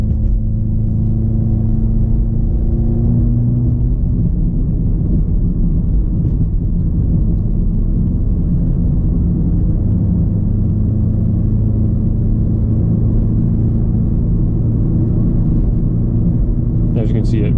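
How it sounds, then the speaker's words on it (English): Audi S3 engine held at high revs in dynamic driving mode, a steady loud low drone and rumble from inside the cabin that persists throughout with little change. "it really holds the revs much higher when you're in dynamic mode"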